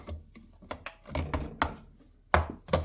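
Ninja Creami ice cream pint being released from the machine, producing a handful of sharp mechanical clicks and ratcheting knocks spaced irregularly over a few seconds, close and fairly quiet.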